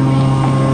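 Skydiving airplane engine droning steadily and loudly from inside the cabin near the open door, a constant heavy hum with wind rush and no break.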